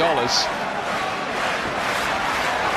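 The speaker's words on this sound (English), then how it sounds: "Crowd are loving it too" Arena crowd at a heavyweight boxing bout in Manchester roars and cheers in a continuous, loud wash of voices, with a brief shout standing out near the start and no commentary over it.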